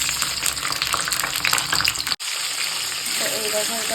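Ingredients tipped into hot coconut oil set off a loud, close sizzling crackle, broken by a sudden instant of quiet before the frying hiss resumes steadily.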